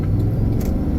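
A car passes by outdoors, a steady low engine rumble and road roar holding loud throughout the short moment with no pause.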